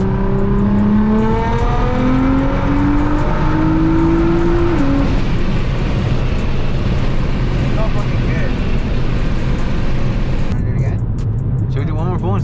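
A Nissan GTR accelerates hard from third gear toward redline, its engine note rising loud and close over several seconds and then settling into a roaring drone, with people talking over it.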